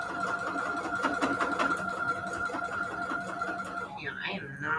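A sewing machine runs steadily, stitching and back-stitching while making a mat, with a continuous mechanical hum and rattle throughout that fades near the end.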